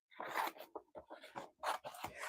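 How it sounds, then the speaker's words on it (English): Scissors cutting out paper templates, a quiet close series of short snipping and rustling bursts with brief pauses between cuts, no talking. "And then I'm going to take my scissors and just cut these templates out."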